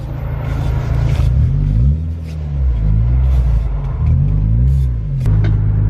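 A loud BMW E36 engine rumbles close by, revving up and down in repeated swells with a deep, throaty exhaust note.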